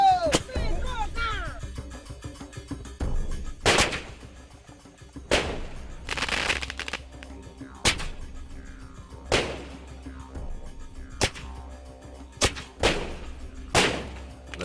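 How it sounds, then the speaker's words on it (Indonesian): Firecrackers set off at night to drive wild elephants away at Way Kambas in Indonesia, with about eight sharp, loud explosions spaced irregularly a second or two apart, amid low background rumble and faint voices. "Ledakan dan percikan api mercon masih jadi cara yang cukup jitu untuk mengusir gajah."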